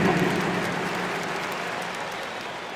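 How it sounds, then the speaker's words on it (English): Dense, steady crowd applause filling a large indoor basketball arena in the video game NBA 2K24, a continuous wash of clapping that holds at a fairly loud level before easing slightly. "Let's give them a big round of applause."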